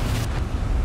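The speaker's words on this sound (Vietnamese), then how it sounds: "Ông kích nổ gì ghê vậy?" Deep, sustained explosion rumble from the video game Quantum Break, a dense low-frequency roar holding steady for under a second with a brief hiss at the start.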